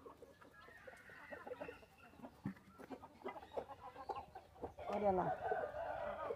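Chickens cluck in a farmyard coop at late-afternoon feeding time, with scattered close clucks and a louder burst of calls near the end, while a person talks in between.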